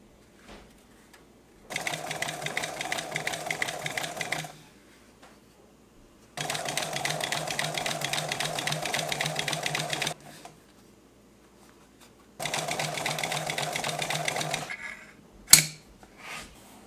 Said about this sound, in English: When you sew material under the foot, it gets caught in the stitches.